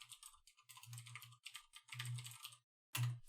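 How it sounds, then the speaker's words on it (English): Close keystrokes on a computer keyboard, tapping in quick bursts with short pauses between, ending in a louder final cluster of keys. "So I'm going to type in that same domain"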